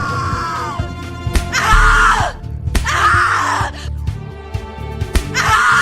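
A person screams repeatedly in The Cat Lady video game, loud anguished cries in long drawn-out bursts separated by short gasps and thuds, up close and intense.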